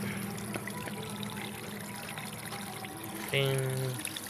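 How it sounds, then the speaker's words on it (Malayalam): Water pours and trickles out of an opened outlet in a steady low flow, with a brief louder gush near the end. "എന്താ വെള്ളം അങ്ങ് ഒഴുകി പൊക്കോളും."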